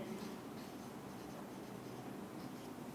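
Quiet, continuous scratchy writing is heard from a hand putting down an algorithm's steps in a computer class. The faint, steady rasp lasts the whole stretch with no voices.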